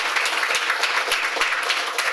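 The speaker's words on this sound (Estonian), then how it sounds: "neid võiks tänada väikese aplausiga" Audience applause for the translators at a Danish author's literary evening, a short burst of steady clapping from a seated crowd indoors.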